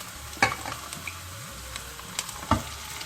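Meat sizzling in oil with fried onions in a pot for couscous, a quiet steady hiss broken by a few sharp stirring clatters.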